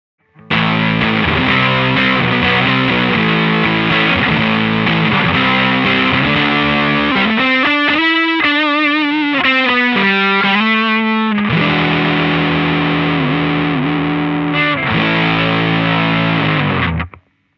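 Electric guitar run through a homemade Madbean Runt distortion pedal, gain set at noon, chugging crunchy chords, then a bent melodic lead passage, then more driven riffing before it stops abruptly.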